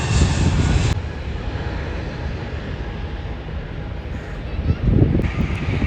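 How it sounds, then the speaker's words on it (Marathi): A small three-seater propeller airplane's engine drones loudly, then drops to a lower, steady hum as it passes; brief voices come in near the end. "साईज बघा, साईज विमानाची."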